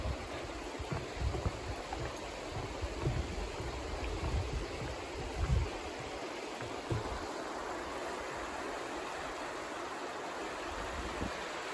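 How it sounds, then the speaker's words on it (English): A stream beside a campsite on the Appalachian Trail rushes steadily with broad, constant water noise, heard alone at an even level with occasional low bumps and handling thuds. "And the sound of water is always nice."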